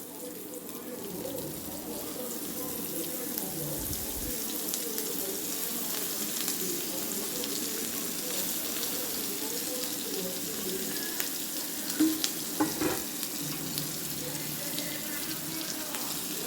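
Salted dried fish (karuvadu) frying in oil, a continuous dense crackle and hiss holding steady throughout, with a few brief louder pops near the end.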